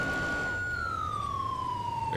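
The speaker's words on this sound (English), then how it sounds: "definitely let me know what you guys think about the siren" Police siren wailing in the GTA 5 LSPDFR mod during a sheriff's patrol, a loud sustained tone sliding slowly downward with a faint higher harmonic, steady and close throughout.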